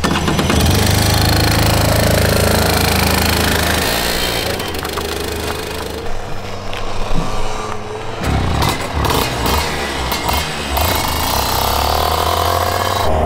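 A go-kart engine warms up on a kart track, a loud, continuous mechanical roar that holds steady, then turns choppier and uneven as the revs rise and fall.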